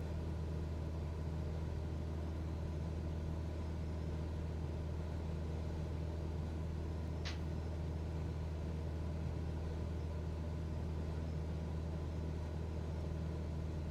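A Cessna 172SP piston engine held at 2400 RPM in a flight simulator, a constant low droning rumble with an even hum and one brief faint tick midway, no talking.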